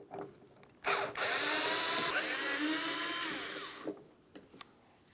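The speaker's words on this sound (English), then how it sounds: "To do this, you're going to remove 2 Phillips head screws." A power screwdriver drives out Phillips head screws from the third brake light assembly on a 2002-2005 Ford Explorer, giving a close whirring run of a few seconds with a brief start, a pause and tapering off.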